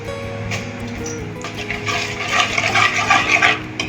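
Spices, turmeric and Kashmiri red chilli powder, stirred with sugar in a pan of hot oil while cooking cauliflower, giving a steady scraping and sizzling under background hum, growing busier toward the end, with no talk.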